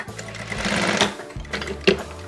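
A sewing machine stitching a double welt pocket runs in two short loud bursts with a brief pause between them, close and mechanical, with a small click near the end.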